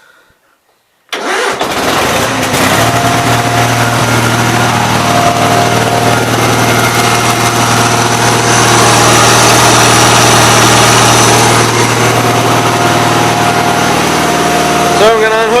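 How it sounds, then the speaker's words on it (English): A Gravely 8163-T lawn tractor with an oil leak cranks over after a short silence and catches, then settles into a steady loud mid-pitched idle that runs continuously and close by. "gonna crank her back up here and just see what it does"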